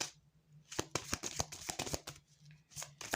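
Tarot card decks are shuffled close up, the cards riffling and slapping in quick soft bursts with brief pauses, quiet and with no one talking.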